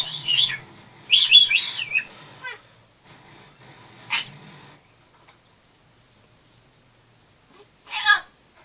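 An African grey parrot chirps and whistles in sharp, high bursts, close and fairly loud, with a few isolated calls spaced across a quieter stretch.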